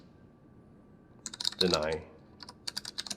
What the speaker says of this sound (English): We will next set the default rules by typing in the following commands